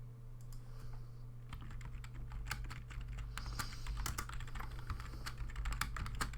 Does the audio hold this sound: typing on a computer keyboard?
yes